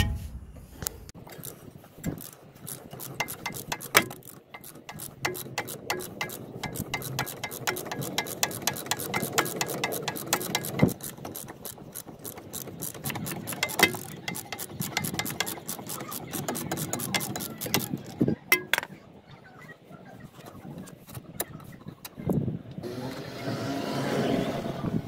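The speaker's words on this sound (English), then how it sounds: "Right, so now we're gonna undo the bolts. Just gonna undo this nut here." Ratchet wrench undoing a nut on the lower control arm of a Mitsubishi Lancer: a continuous run of rapid, dense clicking that goes on for about twenty seconds, close up, with no talk.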